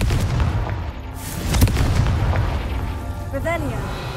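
Confringo blasting spell explosion in the video game Hogwarts Legacy, a loud booming blast within dense game noise and rumble, with a voice and chirpy effects later.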